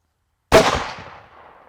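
A single hunting rifle shot fired with 150-grain hunting ammunition, one sharp loud crack that rings and decays over about a second, with no other sound around it.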